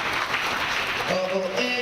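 Audience applause fills a banking conference hall, a dense wash of clapping that continues as a voice begins speaking over it near the end.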